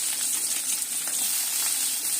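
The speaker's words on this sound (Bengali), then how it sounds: "এই যে পেঁয়াজ সম্বাস দিচ্ছি" Onion frying in a pan produces a brief, continuous bright sizzle at moderate level, with no voices.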